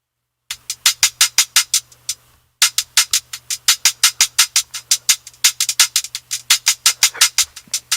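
A crisp, staccato hi-hat on 8th or 16th notes ticks in a quick steady pattern, each hit trailed by delayed echoes from a delay effect, pausing briefly before resuming.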